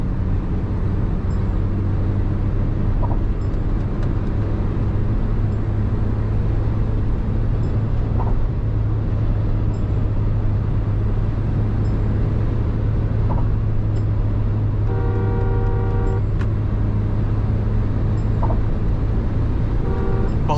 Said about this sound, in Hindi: बहुत ज़्यादा ही विंड नॉइज़ है।